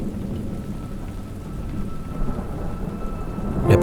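Thunderstorm in a pine forest in Auvergne: steady rain patters over a low rumble of thunder, with a closer, louder crack at the very end.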